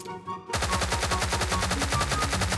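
A Thompson submachine gun fires in the mobile shooter Peacekeeper Elite: after a short pause, a loud, close, unbroken rapid burst of evenly spaced shots runs to the end, with no voices.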